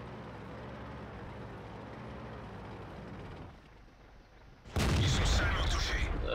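A tank cannon fires in a video game, a loud sudden blast that strikes an enemy tank's turret from behind, bursting in after a steady rumble of engine noise and a brief quieter lull.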